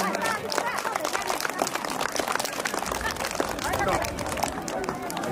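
Audience applause at a school skill performance day in Panchthar, greeting the chairperson: dense, continuous clapping from a crowd for several seconds, with some murmuring mixed in.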